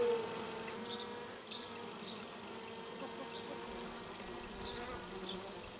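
A swarm of bees buzzes steadily and close after killing a hornet, a continuous dense hum that carries on throughout without speech.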